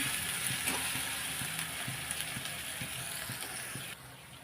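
Garlic, coriander and green chilli paste sizzles steadily in a hot pan for a Marathi safflower-greens bhaji, with soft scraping and stirring ticks over the constant frying hiss.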